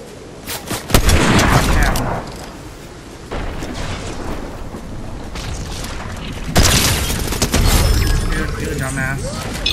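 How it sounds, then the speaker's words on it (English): Sniper rifle fire in the Fortnite video game, a few sharp broadband shots and booms standing out from dense in-game noise, with someone talking over the action. "Hello, you're gonna get sniped."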